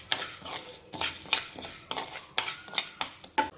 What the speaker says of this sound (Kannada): ಸಿಮ್ಮಲ್ಲೇ ಇಟ್ಕೊಂಡು ಇದು ಘಮ ಬರೋವರೆಗೂ ನೀಟಾಗಿ ಫ್ರೈ ಮಾಡ್ಕೊಳ್ಳೋಣ